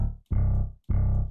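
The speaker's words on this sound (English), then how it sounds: "The next sound I have is a bass," A guitar-like synth bass plays two loud, punchy low notes. Each has a sharp attack and a short sustain, separated by a brief gap, with nothing else sounding.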